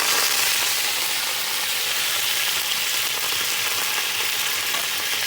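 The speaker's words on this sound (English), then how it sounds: "See how it's kind of fast frying just like that at a high heat" Steady, dense sizzling of garlic frying at high heat in coconut oil, continuous and close, with no voices.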